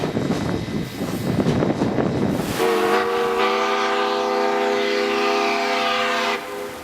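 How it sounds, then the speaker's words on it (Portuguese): Open-design tourist train cars rolling across a high viaduct above a 30-metre drop, first a rough rumbling clatter, then a loud sustained multi-tone horn or whistle blast held for several seconds before cutting off. "Quando em algum momento no caminho os vagões passam pela ponte"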